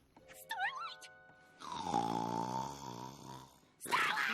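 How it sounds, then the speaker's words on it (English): Loud, drawn-out cartoon snoring from an animated pony in My Little Pony: Friendship Is Magic, one long rasping, throaty snore held for about two seconds after a brief vocal sound at the start. "Your snoring is a bit, Loud?"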